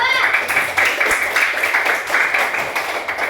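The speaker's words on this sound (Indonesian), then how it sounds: "Yuk, tepuk tangan untuk kelompok 2" A class of students clapping together for a group that has just finished presenting, a busy broadband patter of many hands in a room, with some voices mixed in.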